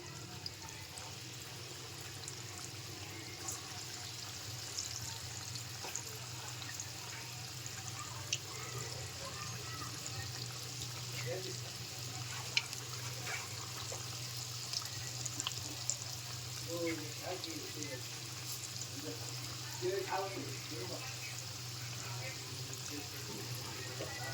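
Small medu vada batter balls fry in hot oil, giving a steady, soft sizzle and bubbling hiss that continues throughout, with someone talking faintly at times.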